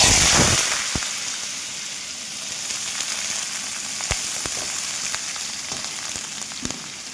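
Potatoes and onions fry in a pan with a steady, close sizzle. It starts loud, then settles into an even crackling hiss with a few sharp pops.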